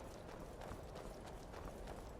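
Horse hooves clip-clopping in a steady rhythmic gait within the video game Skyrim, quiet and fairly even, several soft hoof strikes in a row.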